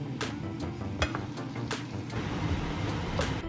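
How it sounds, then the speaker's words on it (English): Ground beef sizzles in a big pan during meal prep, a steady low frying hiss with a few sharp clinks and taps scattered through, close and alone without talk. "I'm gonna go ahead and start cooking the ground beef for the meal prep in this big pan."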